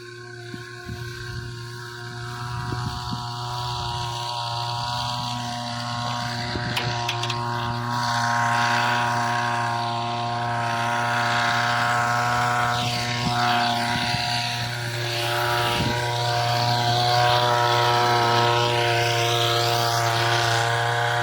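A water pump runs steadily on a farm, filling 20-litre containers: a continuous, loud, droning motor hum with a stable pitch that holds throughout, with no voices over it.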